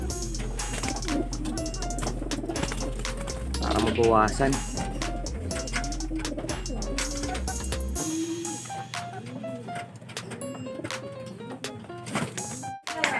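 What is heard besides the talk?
pigeons cooing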